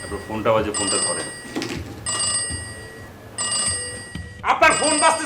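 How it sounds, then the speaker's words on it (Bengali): A telephone rings in four repeated bursts of a bright, steady electronic tone, loud and near, in an office setting while people keep talking over it. "আপনার ফোনটা বাজে, ফোনটা ধরেন।"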